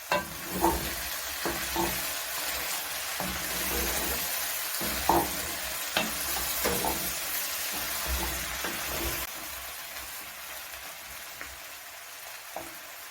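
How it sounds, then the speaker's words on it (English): Tomatoes fry in a pan under a steady, dense sizzle, close and fairly loud, with repeated scraping and clacking as a spoon stirs them. No voices. "now I've added my tomatoes, yeah, and then I'll go ahead and stir"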